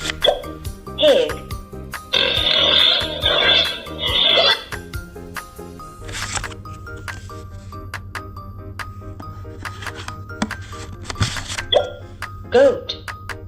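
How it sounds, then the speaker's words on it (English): A talking flash card toy plays pig grunts as a rough, choppy burst lasting a couple of seconds, followed by a low electronic hum, clicks and a toy voice speaking. "Pig."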